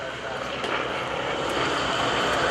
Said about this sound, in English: Beautiful sound of the F4U Corsair.